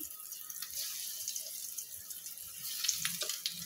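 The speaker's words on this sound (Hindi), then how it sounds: "पैन में मैंने ऑयल को गरम कर लिया है, फ्लेम को लो कर दिया है और अब मैं इसमें नगेट्स डाल दूंगी" Chicken nuggets frying in hot oil in a pan over a low flame, giving a steady crackling sizzle and hiss at moderate level, with no talking.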